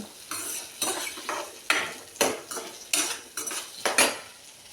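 Cashews, tomato, onion and spices sautéing in a pan, with a spatula scraping and clattering against the metal in roughly eight regular strokes over a soft sizzle, close and clear with no voices.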